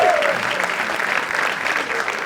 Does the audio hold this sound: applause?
yes